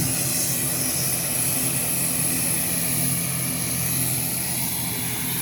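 A small propeller aeroplane coming in to land, its steady engine drone loud and close throughout with a broad continuous rumble and no talk over it.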